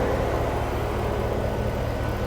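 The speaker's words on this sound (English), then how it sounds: "It sounds like a Hemi." A 2022 Jeep Wagoneer's large engine idles steadily with a deep, even, Hemi V8-like rumble and broad noise, continuous and unchanging throughout.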